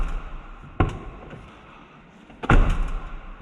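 An Audi A3 car door with a closing fault shuts twice, giving two solid thumps about two seconds apart against a quiet background.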